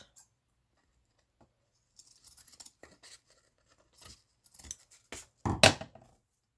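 Scissors snip through paper for a handmade cookbook binder journal: a few soft, close cuts in quick bursts, the last one louder, with near silence between.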